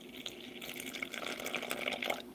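Water pours into a crepe batter mix, making a faint, continuous splashing and gurgling trickle for a couple of seconds.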